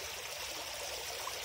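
Stream water flows steadily past a fish trap, a constant soft rushing and trickling wash that stays even throughout, fairly faint and heard alone.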